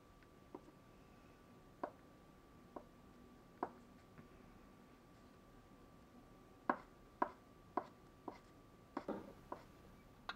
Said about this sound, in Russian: Яйца тоже кубиками.